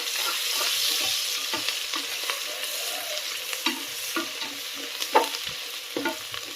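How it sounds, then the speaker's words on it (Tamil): Steady oil sizzle as mint and coriander leaves fry for chicken biryani, with scattered scraping and clinking from a spoon stirring the pan. No voices. "ஒரு கைப்பிடி அளவுக்கு புதினா தலை அப்புறம் ஒரு கைப்பிடி அளவுக்கு மல்லித்தலை சேர்த்து இதையும் நல்லா அந்த ஆயிலையும் நல்லா ஃப்ரை பண்ணி விட்ருங்க"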